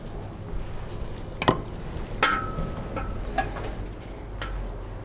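Chicken breasts are laid in a Dutch oven with a little oil, giving a quiet sizzle broken by a few sharp clinks and scrapes of metal.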